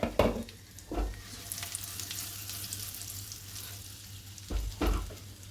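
Stuffed gunda curry fries in a pan as a spoon stirs it, giving a steady low sizzle with a few louder scraping strokes near the start and again toward the end, close by and without talk.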